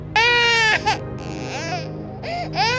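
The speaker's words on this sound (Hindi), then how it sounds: "और ये बच्चे रोने की आवाज ये कहाँ से आ रही है?" A six-month-old baby girl cries loudly and close by in repeated wailing bursts with short gasping pauses between them.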